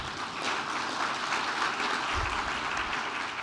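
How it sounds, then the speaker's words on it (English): Steady audience applause fills a conference hall at a research institute's 40th anniversary event, even and continuous clapping heard from a moderate distance with no voices over it. "I think you deserve another round of applause at this moment in time."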